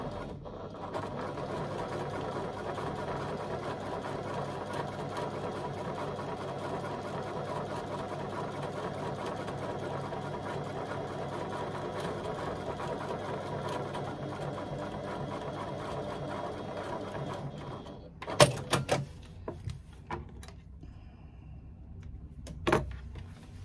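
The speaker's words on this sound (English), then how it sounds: "I'm going to stitch along the top, and you can, if you want to, clip it along the top of the zipper to join it to my lining panel" A sewing machine stitches a zipper onto a lining panel with a steady, fast mechanical whir for most of the stretch, then stops, leaving a few soft clicks and handling knocks.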